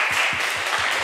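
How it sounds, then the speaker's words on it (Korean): Church congregation applauding to congratulate members on their graduation recital, a short burst of close, loud clapping with a steady rhythmic beat of about four claps a second, no voices over it. "우리 박수로 고생했다고"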